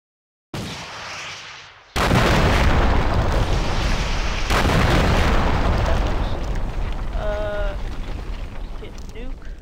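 Gunfire from the Rival Rebels mod in Minecraft: a loud, sustained burst of booming, explosive shots that floods the soundscape for several seconds, with a few high electronic chirps near the end.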